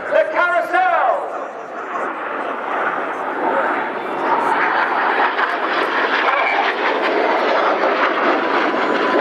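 Red Arrows aerobatic display jets at the Royal International Air Tattoo, roaring loud and sustained overhead as they fly a carousel manoeuvre, with a commentator talking over the engine noise throughout.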